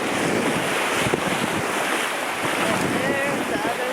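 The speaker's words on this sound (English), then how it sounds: "How nice the beach is." Waves wash onto a sunny beach while steady wind buffets the microphone, giving a constant, close, broadband rush with no clear breaks.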